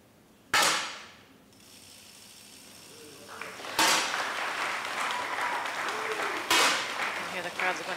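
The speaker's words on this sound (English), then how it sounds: "Here the crowds are going a little bit wild there." Spectators burst into applause and cheering during the men's 10m air rifle final at the 2014 ISSF World Championship in Granada, with several sharp rifle shots cracking out and crowd noise swelling after each.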